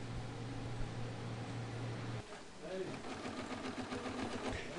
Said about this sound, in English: Sewing on the large panel